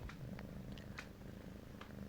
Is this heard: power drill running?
no